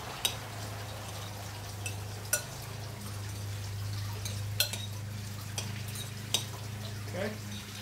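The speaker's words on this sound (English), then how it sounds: "Give it a good thorough mixing." Sausage and jalapeno stuffing being mixed in a bowl with a utensil, heard as a series of sharp clinks and scrapes at irregular intervals over a steady low hum.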